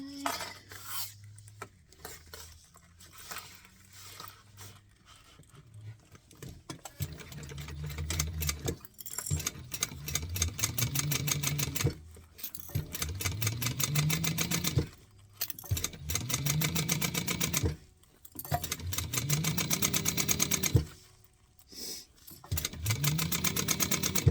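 A sewing machine stitches fabric in repeated bursts of fast mechanical whirring, broken by short pauses between runs, fairly quiet and close.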